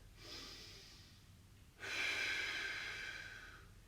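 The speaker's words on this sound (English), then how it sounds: "I want you to take one deep breath" One deep breath taken during a floor stretch: a soft, close inhale followed by a louder, longer exhale through the nose and mouth, with nothing else heard.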